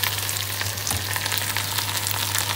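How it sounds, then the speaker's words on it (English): Omena fish frying in oil in a pan, a steady close hiss and crackle of sizzling with a low background hum, no voices. "I don't to wait until they at least fry, get fried."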